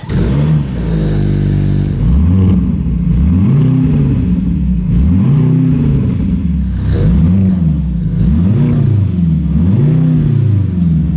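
A 2024 Mercedes C63S AMG starts up and then revs repeatedly, each loud, close swell rising and falling in a regular wave-like rhythm with no talking.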